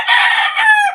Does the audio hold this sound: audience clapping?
no